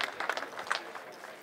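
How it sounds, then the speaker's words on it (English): Crowd applause at a high school girls soccer game, a brief patter of clapping from a modest outdoor crowd, heard from a distance and fading out. "Good round of applause."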